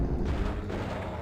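A TNT blast in the shooter Blood: Refreshed Supply, heard as a loud, rumbling explosion that fills the whole short moment with low booming noise.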